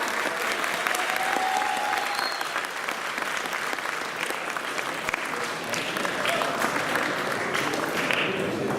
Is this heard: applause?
yes